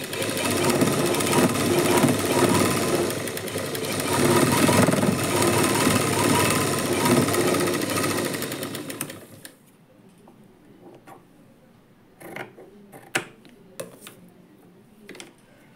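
A sewing machine runs in a fast, steady rattling burst while stitching a lining blouse, loud and close for several seconds before stopping, followed by faint handling clicks and taps.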